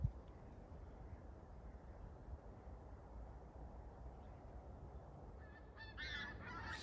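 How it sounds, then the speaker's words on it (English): Canada geese migrating north honk overhead near the end, faint and distant above a steady low outdoor rumble in a red squirrel sanctuary. "Near the geese overhead."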